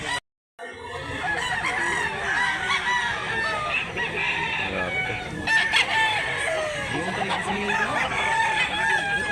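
A rooster crows among other chickens clucking, with a busy, noisy outdoor crowd murmuring throughout, at a cockfighting gathering in Mantalungon, Barili, Cebu.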